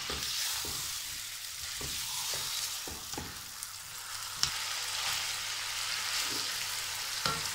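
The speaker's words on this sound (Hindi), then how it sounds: "इसको हम थोड़ी देर भूनते हैं ताकि गोश्त का कच्चापन जो है वो ख़त्म हो जाए" Meat and tomatoes frying together in a pan, a steady soft sizzle with repeated spoon-stirring taps and scrapes close by, no speech.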